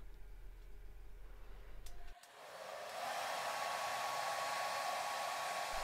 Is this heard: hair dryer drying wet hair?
yes